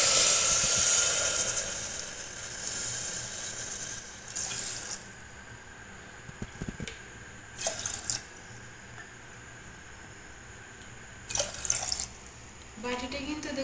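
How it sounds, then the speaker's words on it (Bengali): Water poured into a pressure cooker holding sugar on a gas stove for rasgulla syrup, a steady faucet-like splashing stream with brief louder bursts and faint background noise. "দিয়ে দেবো 4 বাটি জল"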